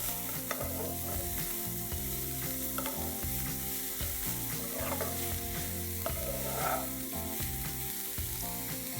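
Capsicum and green chilies cook in a pan with a steady, close sizzle, broken by occasional spatula taps as they are stirred, all under continuous background music.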